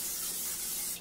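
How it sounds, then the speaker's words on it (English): Olive oil non-stick cooking spray sprayed onto a pan while making scrambled eggs, a single close, loud, steady hiss about a second long that cuts off at the end, with no talk. "you get your non-stick spray, olive oil, and then you spray it on the pan"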